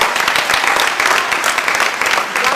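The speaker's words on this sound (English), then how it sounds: "please give an extra round of applause to the scriptwriter of Fractures" Theatre audience at a play's curtain call applauding the scriptwriter, a full, continuous round of clapping, close and fairly loud, with no one talking over it.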